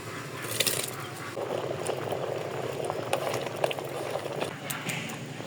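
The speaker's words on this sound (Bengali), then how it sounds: "চালটা ফুটে গেছে, এখন আমি চাল দিয়ে দেবো।" Water for pulao rice bubbles at a steady rolling boil in a cooking pot, a soft continuous simmering and popping heard up close with some faint background noise.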